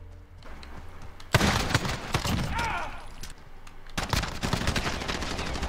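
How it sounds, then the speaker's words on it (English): Glock pistol shots fired from the hip in the game Rust, loud sharp cracks starting with a hard shot, then a rapid string of shots, a short lull and another burst, over faint game background. "I'm just hip-shotting. I'm hip-shotting with a pistol."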